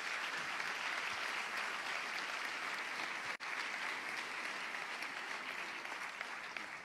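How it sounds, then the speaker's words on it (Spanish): Audience applause at a sports gala in Béjar, a steady, dense wash of clapping from a crowded hall that holds at an even level throughout, with one brief dip partway and no voices on top. "Un aplauso para todos vosotros."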